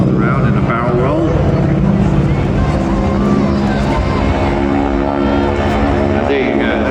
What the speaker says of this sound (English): that's a perfect example of that rasping engine noise, but it's not, it's the tip of the propeller